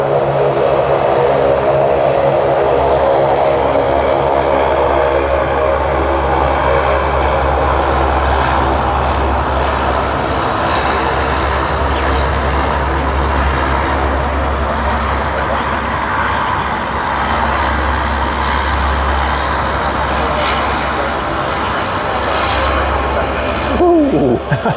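A Link Airways propeller airliner drones loudly at Sydney Airport, its steady low engine hum and prop throb continuing for the whole stretch, with a brief extra whine near the end.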